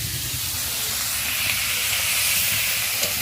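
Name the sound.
onions frying in oil with hilsa fish oil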